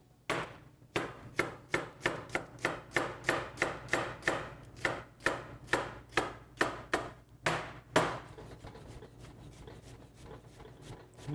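A sharp knife chops food on a board in a quick, even run of about twenty crisp, close strokes, then stops, leaving quiet room tone.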